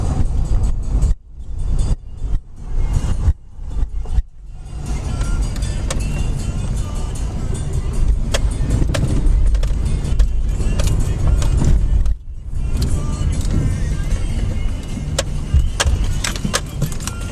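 A Subaru rolls along a road with steady cabin rumble and road noise, broken early by a few brief drops and thumps, then a sustained engine-and-tire drone with a short dip near the end.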